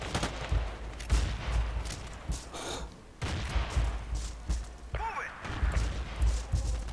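Battlefield 2 multiplayer combat with repeated dull grenade explosions and bursts of gunfire, dense and continuous, with one rising whine partway through.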